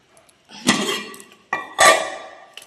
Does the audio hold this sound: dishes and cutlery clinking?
yes